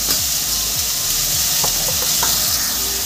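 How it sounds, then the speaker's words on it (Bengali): Figs fry in a wok with a little salt and turmeric, giving a loud, continuous sizzle with occasional stirring scrapes and small pops throughout. "এবার আমি সামান্য পরিমাণে একটু লবণ আর সামান্য পরিমাণে একটু হলুদ দিয়ে ডুমুরটাকে ভেজে নেব।"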